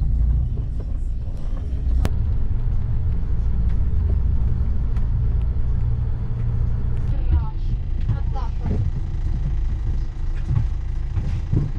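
Bus Éireann Expressway coach on the Derry-Letterkenny-Dublin route, heard from the upper deck as a steady loud engine drone and road rumble, with a sharp click and faint rattles inside the cabin.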